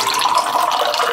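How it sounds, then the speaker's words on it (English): Water poured into a measuring cup in a kitchen, a steady close rushing splash with no break, no voices over it. "put 7 ounces of water in here, maybe 6, and get it warm"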